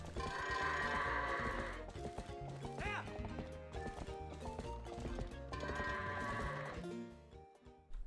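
Goats bleating in the Twilight Princess video game, several bleats and hoof clatter over constant game music, with no talk.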